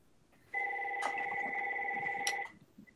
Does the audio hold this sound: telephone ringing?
yes